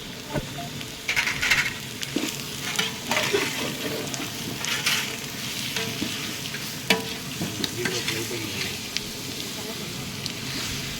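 Prawns frying in a pan with coriander powder, a continuous crackling sizzle broken by repeated scraping and stirring strokes, close and fairly loud throughout.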